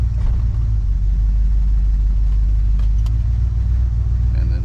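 A cold car engine with a TH400 automatic transmission idles steadily in neutral after being shifted through the gears, a constant close, loud low rumble with no change in pace.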